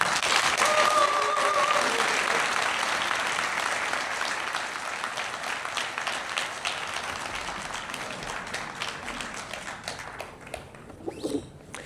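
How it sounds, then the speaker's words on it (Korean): Citizens at a public forum in Ulsan give a long round of applause welcoming former presidential AI secretary Ha Jung-woo, the dense clapping starting strong and gradually thinning into scattered claps by the end. "시민 여러분의 큰 박수로 하정우 전 수석님을 모시겠습니다."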